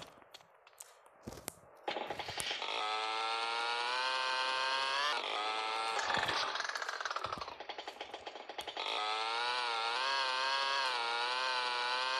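A rented scooter in GTA San Andreas multiplayer on Android gives off a loud, buzzy engine drone that rises and falls in pitch as it revs. A few clicks come before the engine starts, and the sound then runs almost without a break.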